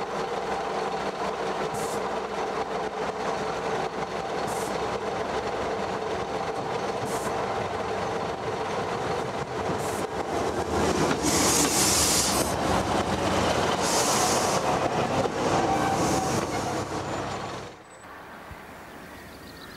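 A single-unit Leyland Bus Super Sprinter diesel passenger train in East Anglia rumbles steadily past for a long stretch with a droning engine and rhythmic rail clatter, then cuts off abruptly near the end.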